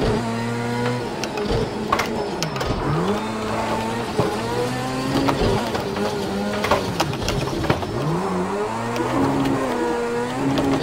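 A rallycross car engine in the racing game Project Cars 2 revs continuously, with repeated rising and falling pitch sweeps as gears change, loud and close throughout.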